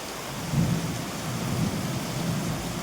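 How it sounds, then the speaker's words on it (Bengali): Heavy thunderstorm with steady loud rain and low rumbling thunder, a hailstorm having just passed; constant dense downpour with deep rolls swelling twice, no voices. "তার মধ্যে বড় বড় বাজ পড়ছে, বিশাল বাজ"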